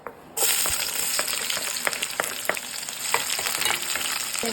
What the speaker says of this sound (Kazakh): Майымыз шыжғырылып жатыр.